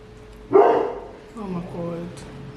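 A dog barks once loudly, followed by softer whining or yipping sounds over a faint background hum, with a brief quieter pause in between.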